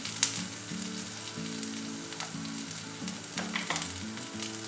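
Nuts, ginger and green chilli sautéing in hot oil for tomato rava bath, a dense continuous sizzle and crackle close up with a few sharp spatters, steady throughout, no voices.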